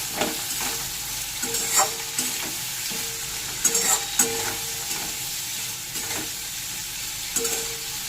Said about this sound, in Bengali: উচ্ছের টুকরোগুলো দেবো পরিমাণ মতো নুন হলুদ গুঁড়োও দিয়ে দিচ্ছি পরিমাণ মতন এবার ভালো করে সব মিশিয়ে নেব